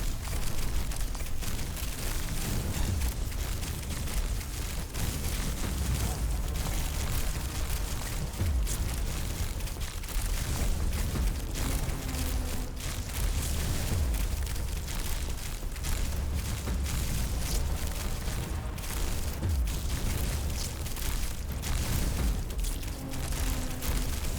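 Rapid, overlapping explosions and booms from the dark-fantasy video game Conquest Dark, a dense barrage of bursts that continues without a break over a steady roar for the whole stretch.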